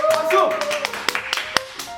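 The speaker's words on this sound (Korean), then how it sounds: "박수! 박수!" A handful of sharp, separate hand claps ring out over a spoken voice and tonal background sound, spaced irregularly toward the end and close and fairly loud.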